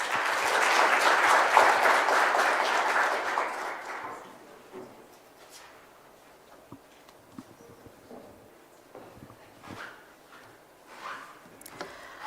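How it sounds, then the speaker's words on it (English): Audience applause for the Governor and Monetary Policy Committee members at a Bank of Namibia monetary policy announcement, loud dense clapping for about four seconds that fades into quiet room noise with a few scattered claps. "can we please give the Governor and the MPC members a big round of applause?"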